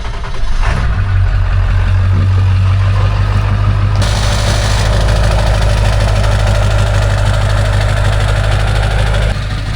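A Ford 7.3 diesel truck engine starts and settles into a loud, close, steady idle with a deep rumbling throb in warm weather, the pitch shifting slightly as it steadies.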